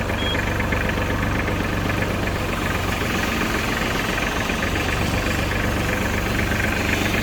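A Japanese mini tractor with a cab and soil tiller runs at a steady idle, its engine chugging evenly and loudly from start to finish with a knocking, vibrating tone.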